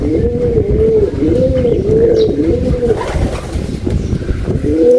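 Breeder pigeons in a loft coo steadily and close by, their repeated rolling calls overlapping in a continuous rhythmic chorus with no talk.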